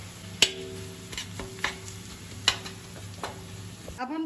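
Poha flakes being dry-roasted until crisp in a pan for chivda, with a steady soft rustle of stirring and a few sharp taps of the spoon against the pan, all alone with no talking.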